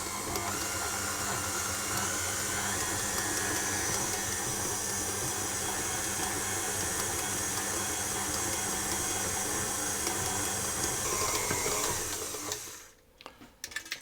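A stand mixer kneads yeasted apple roll dough at medium speed, a steady loud whirring motor hum with a rhythmic churning texture that runs unbroken for about twelve seconds before cutting off near the end.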